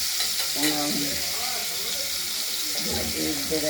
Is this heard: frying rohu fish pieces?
yes